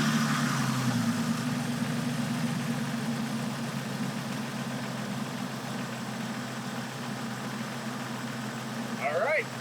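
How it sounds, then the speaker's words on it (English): A Jeep Wrangler engine, just fitted with a new starter, settles into a steady, close idle with a constant low hum that runs unbroken throughout. "All right, let's start the Jeep up and see if she starts."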